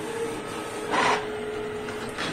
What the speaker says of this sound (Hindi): यहां पे कुछ ही सेकंड्स में ये प्रिंट आउट निकल जाएगा